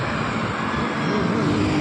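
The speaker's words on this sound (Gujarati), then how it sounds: "પ્લેન આવવાની સમય થઈ ગયો છે, તો આવતા આવતા કદાચ વાર લાગે છે. હવે આવતું લાગે છે." A fixed-wing propeller airplane passes overhead near a bypass road in Ahmedabad, a continuous broad engine roar that stays loud and steady throughout without voices.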